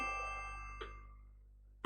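A phone notification chime rings out twice, a bright soft ding near the start and another about a second later, in an otherwise quiet room with a low hum underneath.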